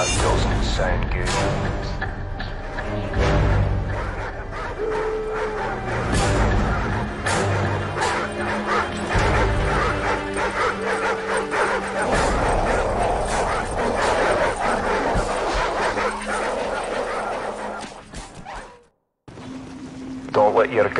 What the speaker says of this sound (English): It's a wild dog.